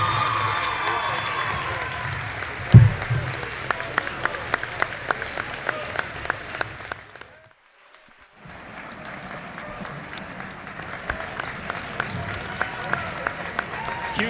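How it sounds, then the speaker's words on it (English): Audience applause and cheering in a high school gym for the 1993 3rd Region champion Grayson County Cougars basketball team, a sustained crowd roar with sharp claps, briefly dropping to near silence midway before resuming. "Huge round of applause here tonight for the 3rd Region"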